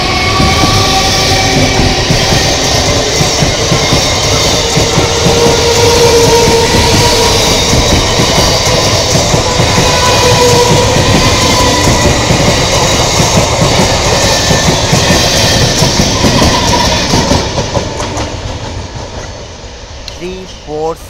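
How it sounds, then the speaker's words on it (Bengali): An Eastern Railway Sealdah–Baruipur local train rumbles loud and close past Sonarpur station, with continuous wheel clatter and rail clicks for most of the pass before the noise fades away. "শিয়ালদা বারুইপুর লোকাল"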